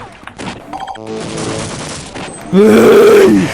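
Gunfire from a gun in a video game: rapid, loud bursts of shots, ending in a very loud sustained blast with a harsh tonal, groan-like edge.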